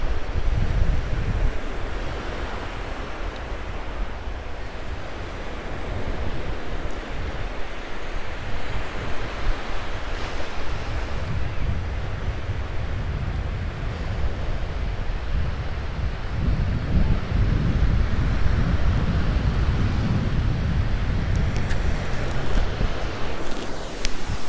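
Ocean surf rolls onto a shallow beach in a continuous wash of breaking waves, with low rumbling swells and gusty wind buffeting the microphone throughout, no voices.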